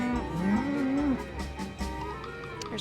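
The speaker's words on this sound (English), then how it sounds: "Well, I hear some cows." Cows moo at a dairy farm in the Nancy Drew game Secret of the Old Clock, one long, loud, wavering low moo followed by fainter lowing and farm ambience with no talk.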